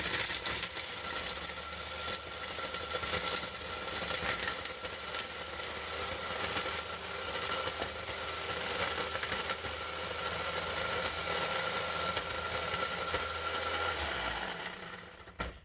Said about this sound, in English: We're just going to blend this together.